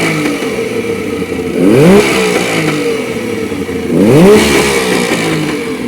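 A throaty two-stroke engine revs twice, each blip rising sharply then falling back to a busy, crackling idle, loud and close with no talking.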